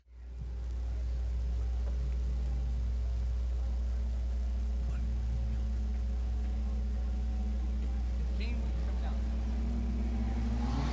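Compact race cars circle a short oval track at Raceway Park, engines droning steadily as revs build under a restart, a constant loud rumble holding throughout without a break.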